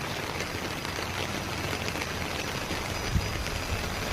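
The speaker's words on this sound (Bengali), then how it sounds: "দেখো আমাদের এখানে কি বৃষ্টি হচ্ছে, সব দিকেই বৃষ্টি হচ্ছে, বাতাস, তার সঙ্গে সঙ্গে বাতাস।" Steady rain falling on a rooftop in windy weather, a dense, even hiss of drops striking surfaces at close range, constant throughout with no voices.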